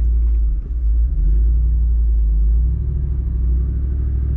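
A 2022 Jeep Wrangler Rubicon 392 Xtreme Recon in four-wheel auto, solid axles unlocked, climbs an off-road slope, its engine giving a loud, close, steady low rumble that swells slightly toward the end.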